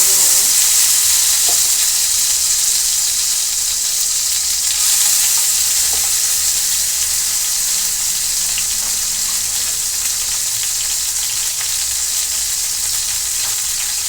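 Chopped green chilli and garlic fry in hot oil for a dhaba-style garlic fenugreek dish, a loud, steady broadband sizzle that crackles without pause throughout, with no talking.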